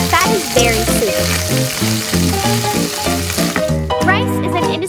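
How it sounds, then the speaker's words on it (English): Fat fries and sizzles in a tiny pot while miniature masala grilled fish is cooked, a steady hiss running under a bright, plucked musical backing. "The sound of frying fat is very soothing."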